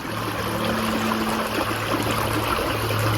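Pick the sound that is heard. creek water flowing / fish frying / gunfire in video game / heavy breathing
creek water flowing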